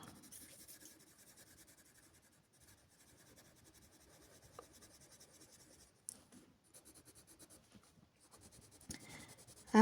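Soft, close rubbing and scratching of a blending pencil across paper in short strokes, quiet with brief pauses and a few light taps.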